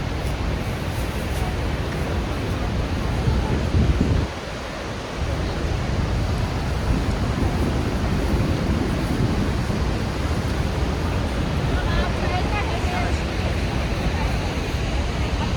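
A constant, heavy roar of falling water from Niagara Falls fills the whole stretch, broadband and loud, with a brief dip partway through, heard near the power station tunnel.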